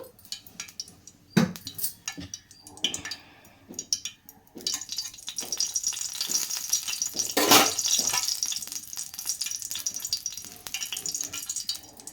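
Chopped onions and green chillies fry in about a hundred grams of oil for a bottle gourd kurma curry: a rising close sizzle under scattered stirring scrapes and light clinks of a utensil against the pan.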